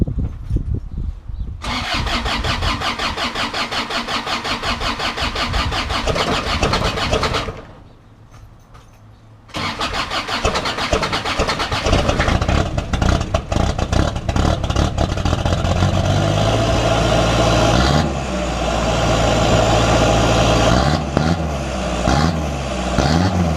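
A Toyota Hilux 4x4 pickup engine cold starts outdoors, cranks, falters into a brief lull, then catches and settles into a loud, steady idle that runs on with shifting rumble.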